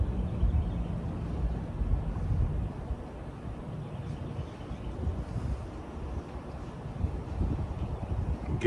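Wind blows outdoors across the microphone during fabric charring for char cloth, a steady low rumble with gusty swells that lasts throughout and has no talk over it.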